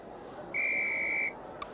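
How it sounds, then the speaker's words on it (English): Madam Hooch blows a single long, steady, shrill whistle in the PS1 Harry Potter Philosopher's Stone flying tutorial. It is loud and clear over a faint background, and a short bright electronic chime follows soon after. "On my whistle then."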